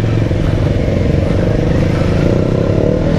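A Modenas Kawasaki Ninja 250i being ridden, its engine droning loud and steady at close range with a rough, buzzing tone and wind rush, no speech over it.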